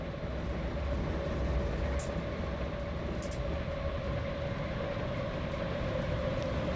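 A heavily loaded freight train in Transport Fever 2 rolls along with a steady, even rumble and a constant drone, joined by a couple of faint high squeals, with no voices.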